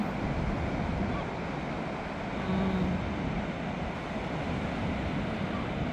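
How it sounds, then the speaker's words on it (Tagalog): Big ocean waves at Towan Beach in Newquay, Cornwall, a steady, loud roar of surf with wind, continuous throughout and with no voices. "Yun, laki ng alon yan."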